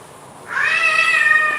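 A cat meows loudly and close, one long drawn-out call rising in pitch and holding steady, following a short stretch of quiet room noise.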